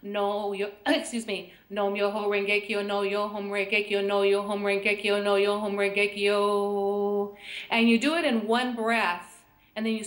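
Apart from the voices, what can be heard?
No everyday noise stands out behind the speech.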